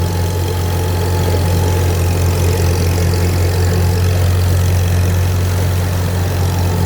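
A farm mower engine with freshly greased blades runs at a steady, even drone, a loud continuous hum with no bogging and no talking.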